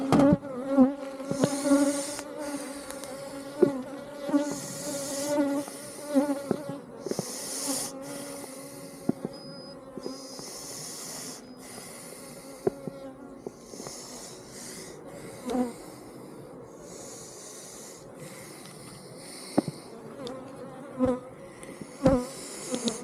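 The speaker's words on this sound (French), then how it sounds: "On a des abeilles un peu plus agressives sur cette ruche." Somewhat aggressive honeybees at an open hive during a routine inspection, a dense steady buzzing swarm close to the microphone with occasional louder bees flying past.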